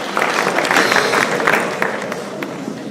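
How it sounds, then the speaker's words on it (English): Audience applause at a high school class night scholarship announcement, a dense wash of clapping from a crowd, loud and sustained before gradually thinning out. "I know it's hard to hold those applause"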